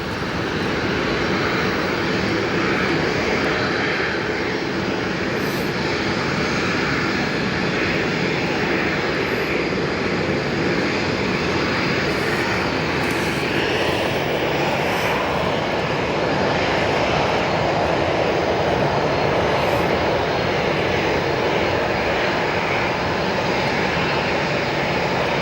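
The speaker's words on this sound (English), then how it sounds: "Here's your Aer Lingus flight of the day." An Aer Lingus airliner at Chicago O'Hare Airport roars continuously, a broad, loud engine rumble that holds steady throughout with no voices.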